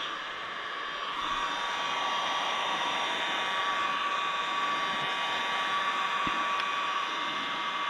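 A heat gun blows steadily on a Pontiac Solstice body panel during paintless dent repair. It makes a constant, close, whooshing whine that grows slightly stronger after the first second, with a faint click partway through.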